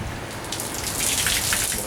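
Water poured onto very dry soil in a seed pot, a dense continuous patter and hiss like rain, close and fairly loud for the whole moment.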